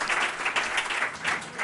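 Conference audience applauds panelists at a summit session, a continuous wash of many hands clapping at moderate loudness with slight swells, no talking over it.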